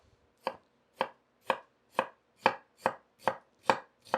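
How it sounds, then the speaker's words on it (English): A knife julienning half a red onion into thin slivers on a cutting board, nine crisp, evenly spaced chops about half a second apart, close and clear with no talk. "take half of a red onion, and we're gonna julienne this red onion"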